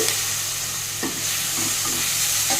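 Onions and tomatoes fry in a pan for an upma-style breakfast, sizzling steadily while a spoon scrapes and stirs through them in several quick, close strokes.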